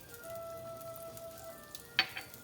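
Butter sizzling in a pan as a sage sauce begins, a steady soft frying hiss with a sharp clink near the end.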